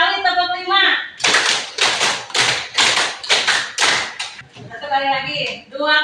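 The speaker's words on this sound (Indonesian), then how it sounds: "Oke, 2 kali tepuk 5." A class of students claps a five-beat pattern twice in unison, ten loud, evenly spaced group claps in two sets, with speech before and after.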